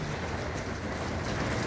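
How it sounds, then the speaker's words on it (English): Steady rain falls outdoors on a sheep farm on a wet day, a continuous close hiss of drops on surfaces with no voices over it. "and it's raining out"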